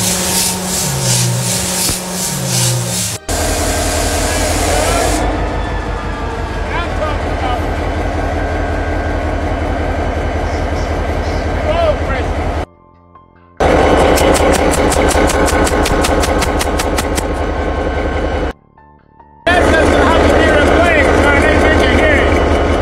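A locomotive diesel engine fires up with a loud, close, rumbling mechanical drone and rhythmic pulsing, stopping briefly twice before roaring on again, with a voice talking over it.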